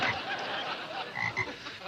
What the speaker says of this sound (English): It's a frog. And he's all yours.